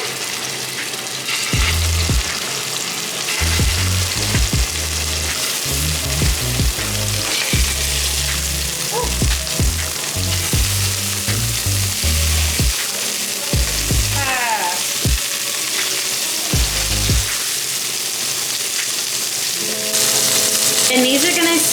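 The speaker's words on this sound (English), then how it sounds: "And these are gonna sear for about 90 seconds a side." Dry sea scallops searing in a hot pan, giving a loud, continuous sizzle with low thumps and clatter as they are handled, steady throughout and close up.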